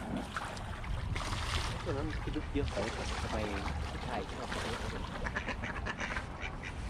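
Ducks quack by a canal abroad, a series of nasal calls clustered in the middle amid outdoor water ambience, while people talk nearby throughout.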